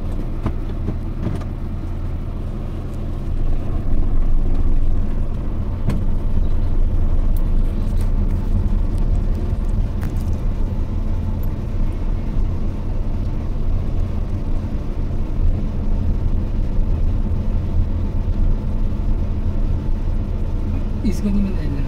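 A car driven by a first-time learner driver, the engine idling and running as a steady low drone from inside the cabin, with people talking throughout.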